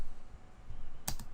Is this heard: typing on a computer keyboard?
yes